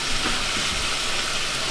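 Butter browning in a pan ahead of a reduced-fat vegetarian mac and cheese, giving a steady, close fizzing sizzle that holds even throughout with no talk over it.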